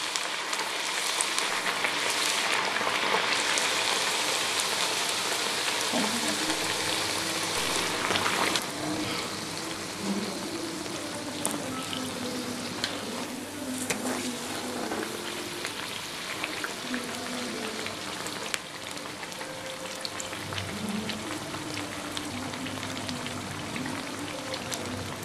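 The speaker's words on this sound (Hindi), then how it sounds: "ये हमारी मक्की की पूरी अच्छी तरह से फ्राई हो गई है।" Corn flour puris deep frying in hot oil, a continuous dense crackling hiss like rain that holds steady and close, easing slightly partway through with a few faint clinks.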